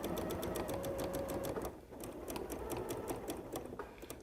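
A sewing machine stitches fabric appliqué in a rapid steady rhythm, pausing briefly midway before resuming, close and continuous with no voices.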